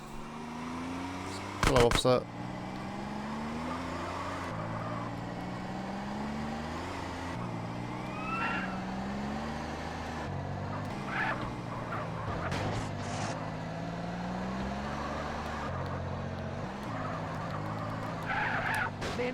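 A car driving in GTA San Andreas hums with a steady engine drone that rises and falls through gear shifts, broken by tire skids, with voices talking over it.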